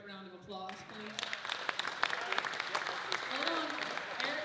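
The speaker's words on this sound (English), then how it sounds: "Let's give these wonderful committee a great round of applause, please." Applause breaks out after a brief spoken moment at a Grove Rotary food pantry event, a crowd clapping steadily and fairly close, with a few voices and cheers mixed in.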